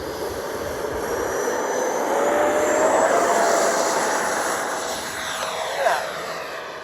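A large twin 80mm electric ducted-fan Freewing MiG-29 Fulcrum RC jet roars past in a flying pass, a steady whooshing whine that swells toward the middle and fades with a slight pitch shift.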